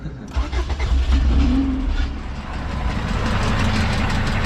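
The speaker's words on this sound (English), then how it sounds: "I'm gonna have Leo turn the car on real quick and let you guys hear it" A DA9 Acura Integra engine idles with a rough, rumbling exhaust from a broken header runner leaking at the front, steady and close, with low throbbing and rattly noise throughout.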